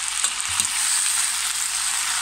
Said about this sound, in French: Et je touille